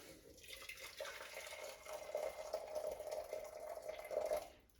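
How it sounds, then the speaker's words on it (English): Freshly boiled hot water pours steadily into a vessel on a scale for a Krups 265 coffee machine, a faint, continuous splashing trickle lasting several seconds with no talking. "I'm going to weigh 250 grams of fairly hot water which just boiled"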